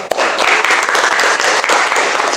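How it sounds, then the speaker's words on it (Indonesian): Classroom audience applauding during a teaching practice lesson on education in the globalization era, a steady, dense burst of clapping lasting the whole moment, close and fairly loud, with no talk over it. "Tepuk tangan untuk saya."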